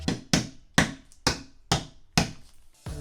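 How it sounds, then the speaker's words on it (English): Almonds being hammered, seven heavy thuds at a steady pace with a short ring after each, loud and close, no talking. "we gotta hammer some almonds"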